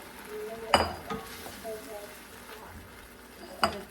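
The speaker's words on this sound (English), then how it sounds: "Oh, that's gonna make it sweat. Oh yeah, so we're going to mix that in." Tomato pieces stirred into a hot soup pot for a keto pepperjack tomato bisque, a soft sizzle under two sharp utensil clinks against the pot.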